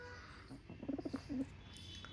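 Pigeons give a short series of soft, low coos, four or five quick pulses in the middle of a quiet outdoor stretch, with faint background hiss.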